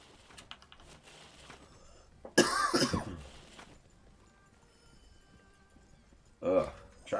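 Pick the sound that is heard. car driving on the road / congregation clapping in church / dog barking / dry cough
dry cough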